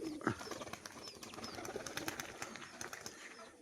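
A pair of crested fancy pigeons coo softly and repeatedly close by. The calls are faint, with light rustling and a brief flutter between them, and no one speaks.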